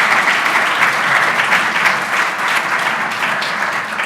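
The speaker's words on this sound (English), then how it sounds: "One more round of applause for all of the ladies who were able to join us, and Grady" Sustained applause from the audience at a 2018 state election forum held by a chamber of commerce, a dense, steady wash of clapping hands lasting several seconds, loud and close, with no voices over it.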